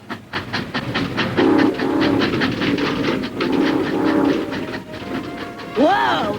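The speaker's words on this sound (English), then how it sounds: "I feel the rhythm of the clickety-clack. The wheels are rolling down the railroad track. And every time I hear the whistle" In a 1985 cartoon, train wheels beat out a rapid, rhythmic clickety-clack along the rails, and near the end a loud, rising and falling train whistle sounds.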